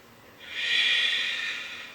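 One deep, slow breath drawn in during a gentle floor exercise, a soft airy hiss that swells over about a second and then fades, close and alone.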